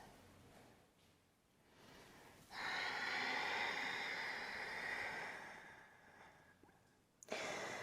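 Breathing during a yoga session, one long audible exhale or rush of breath lasting several seconds, close and fairly loud after a quiet start, ending with a brief click.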